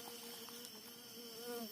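Stingless bees (lebah klanceng) nesting in a dug-out teak tree root make a soft, continuous buzzing drone, close and steady, with faint background hiss.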